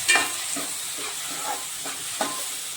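Tomatoes cooking in a pan with salt, turmeric and chilli powder for pav bhaji, a soft hiss with a few spaced scraping strokes of a spoon being stirred through, quiet and without talking.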